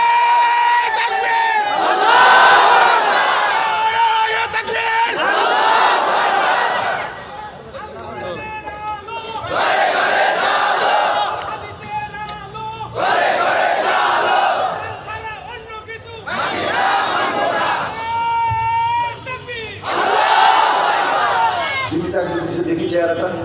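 A large crowd at an Islamic sermon shouting takbir in loud unison, several booming waves of collective cries separated by brief pauses.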